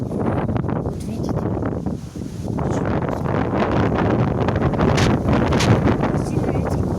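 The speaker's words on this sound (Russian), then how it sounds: "Сильный ветер какой." Strong wind gusts through trees in a storm that has toppled a tree onto a Daewoo Nexia car, producing loud, continuous roaring and rustling with buffeting on the microphone.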